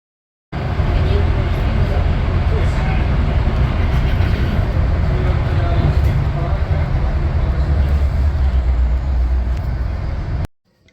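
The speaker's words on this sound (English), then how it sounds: "we see a Canadian National manifest destined for Gary, Indiana, with 2 Illinois Central SD70 Death Stars leading a BC Rail-9" A Canadian National manifest freight train headed by two Illinois Central SD70 locomotives rolls past close by, a loud, steady low rumble and rail clatter that starts abruptly and cuts off near the end.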